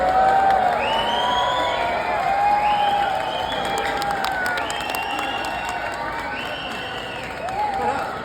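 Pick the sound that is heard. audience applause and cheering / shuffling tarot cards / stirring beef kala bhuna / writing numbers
audience applause and cheering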